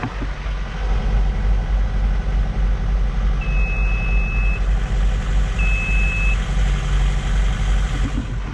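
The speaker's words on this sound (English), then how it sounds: "have alarms going off" Two steady electronic alarm tones on a sailboat taking on water sound a second or so apart over a constant low engine drone.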